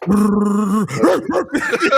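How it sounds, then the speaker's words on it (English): A dog lets out a drawn-out whining growl and then a quick run of short yips and barks, close and loud, over a brief two-second burst. "don't you ever bark like that again"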